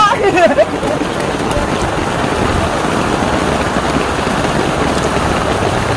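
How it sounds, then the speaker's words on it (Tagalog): Dense, loud, steady hiss of heavy rain pouring close by, continuous throughout, with some voices mixed in at the start. "Ang lakas ng ulan!"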